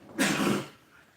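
A single sharp sneeze bursts out close to the microphone, then fades into quiet.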